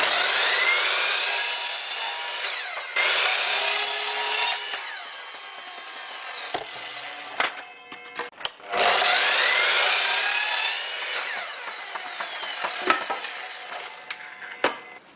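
A reclaimed wood board being sanded with a power tool in long, loud bursts of rough rasping, broken by pauses with scattered knocks and clicks before the sanding resumes.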